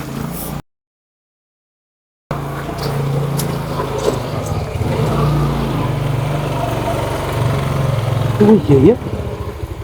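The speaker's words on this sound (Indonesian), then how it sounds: "Ada suara motor." A motorcycle engine, from an online ojek driver delivering food to an abandoned house, idles and hums steadily nearby with a brief rev. People talk over it.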